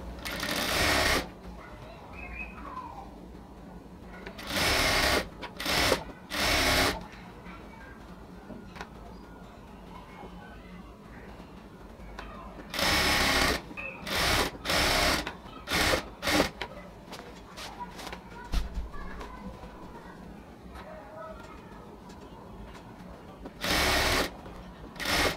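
A sewing machine stitches elastic into the waistband of a ladies' pant, running slowly in repeated short bursts with pauses between. Quiet speech can be heard during the gaps.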